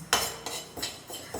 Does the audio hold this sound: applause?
no